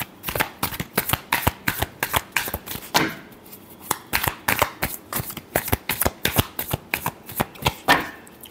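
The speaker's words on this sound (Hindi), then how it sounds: "Last shuffle." A deck of cards being shuffled during a tarot-style reading, heard as rapid riffling bursts repeating in quick rhythm throughout, close and clear with no talking.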